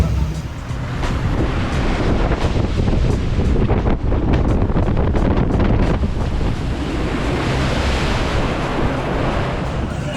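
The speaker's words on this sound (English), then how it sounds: "we got a ride on the log flume, as you saw there" Log flume ride at Walibi Holland amusement park, heard as a loud, continuous rush of churning water and heavy wind buffeting the microphone throughout, with no clear talk.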